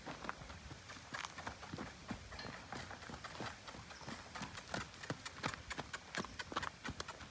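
A stallion's hooves clip-clop on the ground in a quick, uneven walking rhythm, faint and moderately distant, continuing steadily throughout without voices.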